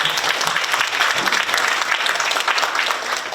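Loud, close, continuous audience clapping fills a hall at the inauguration of the San Francisco chapter of a Korean peaceful-unification advisory council, dense and unbroken for the whole stretch.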